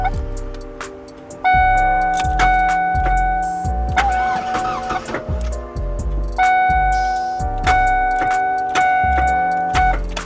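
A Ford 302 Windsor V8 with a failing starter cranks in long, close, loud bursts of rhythmic whirring and clicking that stop and restart without catching.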